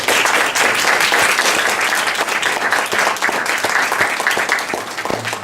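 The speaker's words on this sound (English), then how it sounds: "Please join me in giving our panelists a big round of applause" A crowd applauds panelists at a panel discussion in a dense, sustained wash of clapping, loud and steady, tapering slightly toward the end.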